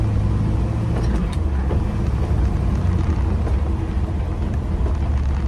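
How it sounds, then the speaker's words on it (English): Straight-cut gears of a 1967 Morris Minor Traveller whine in first gear over a steady, loud engine drone from inside the moving car, with no talking. "Lovely straight cut gear noise in first gear"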